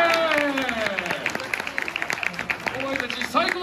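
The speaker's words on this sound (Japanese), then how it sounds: "みんな拍手してくれ。" Scattered crowd clapping at a Tokyo DisneySea show with the Crush character, irregular claps mixed with voices and show talk throughout.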